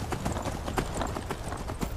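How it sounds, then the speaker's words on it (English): Horse hooves in the game Skyrim, a rapid steady clip-clop of footfalls at a trotting rhythm, moderately faint and near, over a soft ambient game backdrop. "And now my horse should be appearing again. I hear it!"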